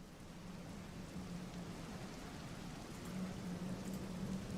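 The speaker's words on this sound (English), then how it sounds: "It's like it's raining and the raindrops are thick." Heavy rain with thick raindrops hisses in a steady, even wash of noise. It stays faint and constant throughout, with no voices.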